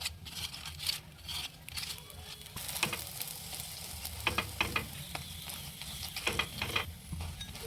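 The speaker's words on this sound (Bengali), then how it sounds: "এক পাশে পরোটাটা উল্টে দিলাম আর অল্প ঘি দিব।" A paratha fries in ghee on a hot tawa, giving a soft, steady sizzle with intermittent scraping and turning sounds, close but fairly quiet with no voices.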